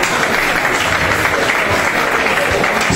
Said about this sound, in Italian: fare un grande applauso per la nostra orchestra qui